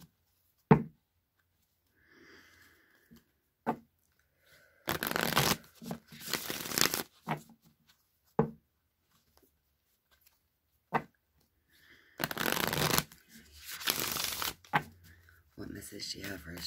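Tarot cards shuffled in two long riffling bursts, with scattered taps and card handling between them, close by and fairly loud against a quiet room.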